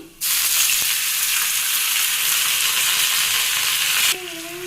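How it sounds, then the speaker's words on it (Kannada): Water poured over fried curry leaves and garlic in a hot pan bursts into a loud, steady hiss that runs for about four seconds, then cuts off abruptly, leaving a quieter bubbling. "ಸ್ವಲ್ಪ ಕರಿಬೇವು ನೋಡಿ ಇವಾಗ ಫ್ರೈ ಆಗಿದೆ ಅದಕ್ಕೆ ಇವಾಗ ನಾನು ಸ್ವಲ್ಪ ನೀರನ್ನು ಹಾಕೋತಾ ಇದ್ದೀನಿ"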